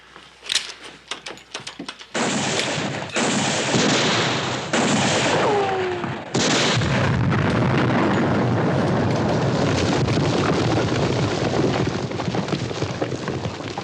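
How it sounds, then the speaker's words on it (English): Dynamite blasts go off in a TV western. Sharp bangs open the scene, then heavy booms follow and leave a long, loud rumble of debris and rolling noise. "Dynamite."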